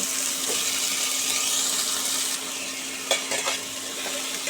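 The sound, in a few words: sliced potatoes frying with five-spice tempering and dried chilli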